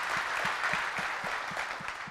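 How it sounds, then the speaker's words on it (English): Audience applause in a church service, steady crowd clapping at modest loudness with a regular low thumping beat beneath it, no speech over the top. "let's give a big round of applause for Oval"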